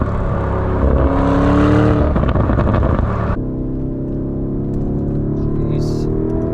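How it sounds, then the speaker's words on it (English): A Lamborghini Urus SUV engine roars loud and close under acceleration, its tone rising and shifting as it gains speed, with a person talking over the steady drone. "This is an alpha car."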